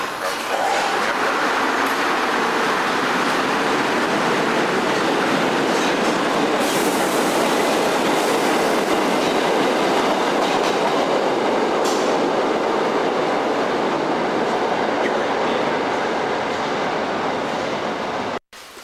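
A subway train runs through Berlin's Mitte station in East Berlin in 1990, a loud, steady roar of wheels and rail noise with clattering filling the whole span before cutting off abruptly at the end.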